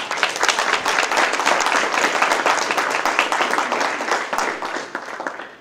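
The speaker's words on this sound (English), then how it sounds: "Please give yourselves a round of applause." Dense, steady applause from a breakfast audience at a Democratic city committee gathering in Brockton, a full room clapping continuously and fairly loud throughout before tapering slightly at the end.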